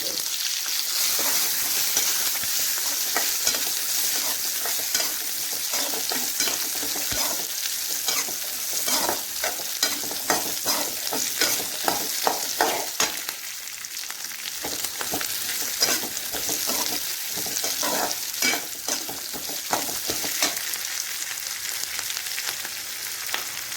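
Onion and garlic fry with dried red chillies in a pan, a steady loud sizzle running throughout with intermittent scraping as they are stirred, close up, with no talk.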